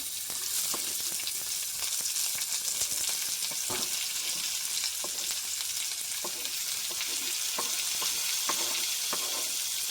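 Onion, tomato and mint leaves sizzle steadily as they fry in ghee in a pan, a dense continuous crackle with occasional stirring clicks, close and fairly loud.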